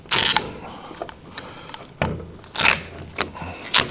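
Metal scraping and clanking as a cut-apart turbo turbine housing for a 1JZ engine is pulled apart by hand, several sharp grinding bursts with quieter creaks between, close and fairly loud.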